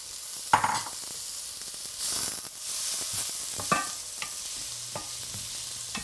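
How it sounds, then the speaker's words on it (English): Leafy beet greens go into a pan of cooking beets, sizzling unevenly with clattering stirs, scrapes and bursts of hissing as the greens are tossed. "we're going to add in our beet tops, or the leafy greens, to our beets"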